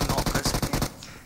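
Automatic gunfire in the mobile battle-royale game PUBG Mobile, a rapid burst of about nine close, loud shots in even rhythm, stopping before a short fading tail.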